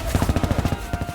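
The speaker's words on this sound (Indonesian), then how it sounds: "peluru berterbangan dan ledakan bom silih berganti di arena itu tanpa ampun" Gunfire rings out in a World War I battle scene, a rapid string of a dozen or so close, evenly spaced automatic shots in a quick rhythmic burst.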